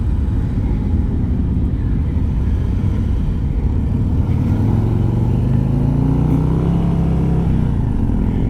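A 2022 Harley-Davidson CVO Street Glide with the 117 engine being ridden, a steady loud low rumble with wind noise, the engine pitch rising gradually as it pulls.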